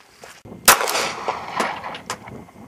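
A single sharp, loud gunshot from a handgun firing a handloaded round at an outdoor range on a rainy day, followed by a brief echoing tail and faint clatter.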